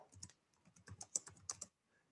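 Keys clicking on a computer keyboard while an SQL query is typed, a quick irregular run of about a dozen close, crisp taps that stops near the end, with no talking.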